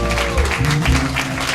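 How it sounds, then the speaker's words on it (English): Audience applause at a Houston summer event for the organizer, heard as a brief burst of clapping mixed with voices and a loud, close speaking voice over it. "I want y'all to give her a huge round of applause for"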